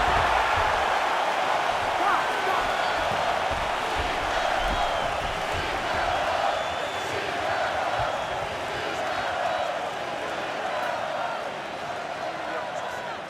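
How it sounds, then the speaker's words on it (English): A large arena crowd at a professional heavyweight fight roars and applauds after a round, a dense, steady wash of cheering that fades slightly toward the end. "So the crowd voicing its appreciation after that round."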